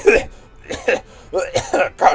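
A voice imitates a coughing fit: several raspy, throaty bursts in a ragged rhythm, close and fairly loud, with short gaps between them.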